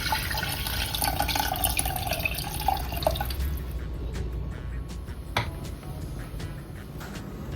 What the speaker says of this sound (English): reduce the flame again and add in the tamarind water